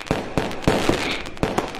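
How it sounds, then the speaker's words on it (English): Fireworks going off as a background stream, heard as a string of sharp crackling bursts that repeat at irregular intervals, about six pops over a steady hiss, with no talking. "I have like a little fireworks stream going on in the background"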